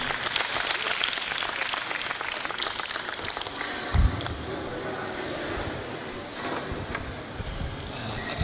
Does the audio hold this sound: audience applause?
yes